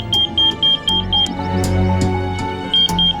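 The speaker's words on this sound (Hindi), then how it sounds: "इस बॉक्स का टेम्परेचर बढ़ रहा है और ये उसी का अलार्म है।" A temperature alarm on a box that should stay at -24 to -30 degrees beeps in short, evenly spaced high-pitched bursts, loud and close over a background of music, with no talk.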